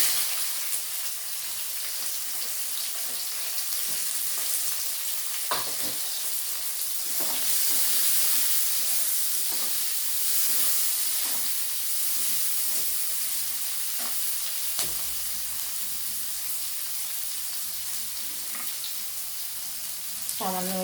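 Chopped onions frying and being stirred into a mutton curry with potatoes, a steady sizzle in the pan broken by occasional spoon scrapes and clinks, close by with no talking.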